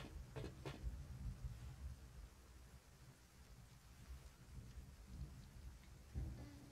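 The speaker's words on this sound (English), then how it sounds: "Got a thunderstorm coming in." Thunderstorm with steady rain falling on a surface and low rumbles of thunder rolling through, one heavier rumble near the end, all fairly faint and without talk.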